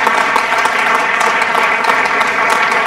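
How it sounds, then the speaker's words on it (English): Loud, dense applause from an audience at a school's all-parent meeting, a steady wash of many hands clapping close by, with faint voices mixed in. "Let's give them a big round of applause as well."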